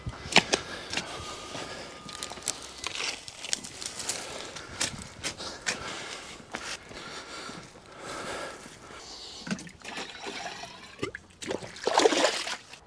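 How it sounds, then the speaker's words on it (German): A 10-litre watering can pours water onto a freshly planted young tree in garden soil mixed with compost, giving uneven splashing and trickling bursts close by with soft rustles between them. "Und so frisch gepflanzte Bäumchen natürlich immer ordentlich angießen"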